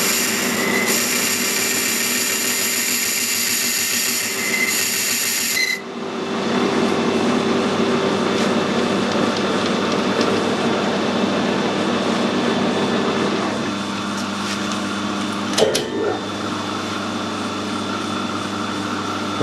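A lathe boring tool cutting a taper with the compound slide while installing a collet chuck, a loud steady metallic whine that cuts off abruptly, then a continuous rougher machining drone with a brief clatter near the end.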